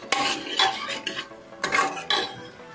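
Spoon clinking and scraping against a metal pot while salt is stirred into a mutton curry, a series of sharp irregular knocks and scrapes, close and fairly loud, with no talk.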